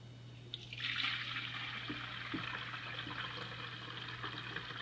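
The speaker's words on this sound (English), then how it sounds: "we're going to start by pouring this into this pitcher" A gallon of homemade organic kombucha pours steadily into a pitcher, a continuous splashing liquid rush that begins after a brief pause and carries on evenly at close range with no talk.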